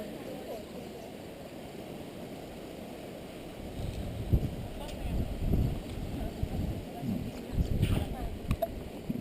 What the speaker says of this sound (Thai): ลมแรงดี ฮะ อากาศเย็นสบาย